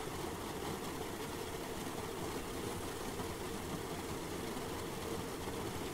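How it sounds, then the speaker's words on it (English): A Latecoere 631 flying boat engine idling in a flight simulator game, a faint, steady, even drone that runs unbroken throughout. "Alright, I finally managed to get the engine started."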